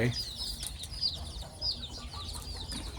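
Backyard chickens on a Thai village hen-raising farm cluck and chatter in short repeated bursts close by, over a low rumbling background.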